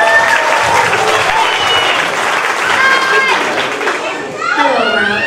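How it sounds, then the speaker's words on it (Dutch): A hall crowd applauds a child contestant at a youth prince election for carnival in Indegat, 2014, with dense steady clapping mixed with children's cheers and chatter that fades near the end. "applaus voor Kiki."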